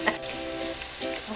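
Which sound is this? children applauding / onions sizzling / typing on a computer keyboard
onions sizzling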